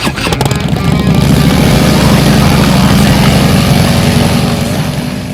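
A 2024 Harley-Davidson motorcycle engine, Road Glide or Street Glide touring bike, runs in a steady, loud, deep rumble that holds throughout without a break, close by and with no talking over it.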